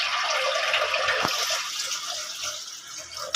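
Water pours into a pressure cooker while a peanut dish is being cooked, a splashing, gurgling stream that runs on and then tapers off, with a small clunk at the end.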